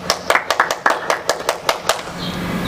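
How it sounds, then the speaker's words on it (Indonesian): A youth congregation in church clapping their hands in a quick run of about a dozen sharp, evenly spaced claps, then stopping into a soft room hush. "Tepuk tangan buat Tuhan Yesus."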